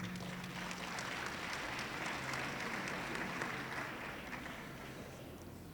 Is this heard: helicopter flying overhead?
no